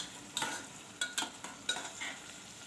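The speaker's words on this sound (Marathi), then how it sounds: "हे सगळे साहित्य दोन ते तीन मिनिटभर आपण चांगले परतून घेऊया कांदा आणि टोमॅटो चांगले परतले गेले की" Onion and tomato for a bottle gourd and chana dal curry sauté in a pan, with several distinct scraping stirs of a spoon over a soft background sizzle, close and fairly quiet.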